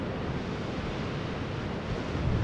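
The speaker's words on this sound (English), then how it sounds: "Can you hear the sound of those waves?" Steady rushing surf of ocean waves, with a constant broad wash of noise and some wind on the microphone.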